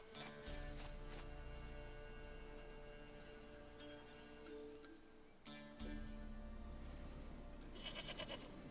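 Repeated goat bleats in The Witcher 3 video game rise and fall over a steady low musical drone, the calls coming in several wavering bursts with a brief pause midway.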